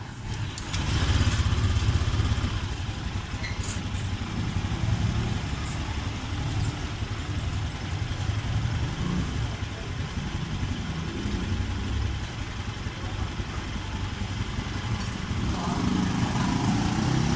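A Honda Beat scooter engine starts and settles into a steady idle, a low, even mechanical hum heard up close, with no voices over it.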